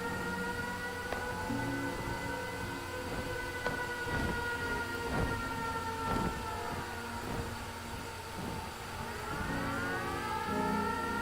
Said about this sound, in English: Why is that siren playing?